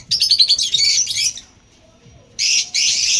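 Pet birds chirp and twitter in an aviary, a dense bright flurry of calls in two bursts with a quiet gap between, fairly close and loud.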